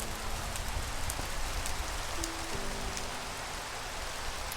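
Steady rain in Minecraft Skyfactory 3 falls as an even broadband hiss, with scattered faint droplet ticks and a couple of soft, low game tones partway through. No one speaks.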